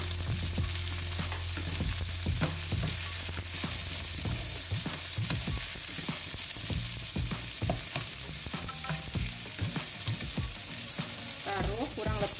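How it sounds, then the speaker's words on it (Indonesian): Sliced cucumber sizzles loudly in a hot pan, a dense continuous frying hiss with repeated scraping and clatter of a spatula tossing the pieces, close up and without speech. "Lalu masukkan timun yang sudah dipotong."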